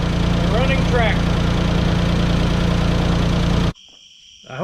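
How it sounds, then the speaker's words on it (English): A Ford 3000 tractor engine idles steadily and loudly up close with its hood off after a fuel pump replacement, a rhythmic low drone that cuts out abruptly near the end and leaves a faint high tone. "we're gonna try it and see if it starts. And here we go, the running tractor."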